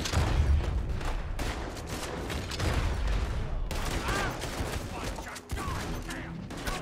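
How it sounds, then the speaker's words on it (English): Shotgun blasts in Red Dead Redemption 2, in a house during a chapter set in Saint Denis: a dense, continuous fusillade of loud, booming shots layered with other gunfire and action noise throughout. "I use the shotgun here."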